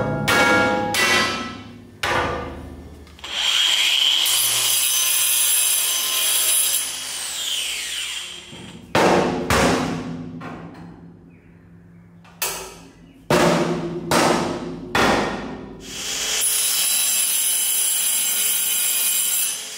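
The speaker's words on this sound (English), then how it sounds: "So I'll just quickly run over it with the 60 grit" An aluminium boat hull is sanded with 60 grit, loud abrasive whirring in repeated bursts of a few seconds each, broken by short pauses and tool clatter.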